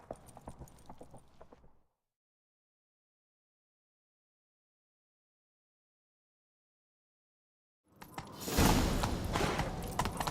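Horse hooves from The Witcher 3 clip-clop briefly, then cut to silence for about six seconds before louder galloping returns near the end.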